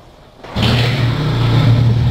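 A motorcycle engine in the shooter game Free Fire starts up and revs steadily at close range, a loud continuous drone that holds for about a second and a half with no talking over it.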